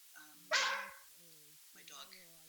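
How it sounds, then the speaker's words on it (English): A dog barks in one loud, close burst amid ongoing talk, during an indoor presentation, with whimpering tones around it. "My dog is impatient because he thinks we haven't achieved a lot yet."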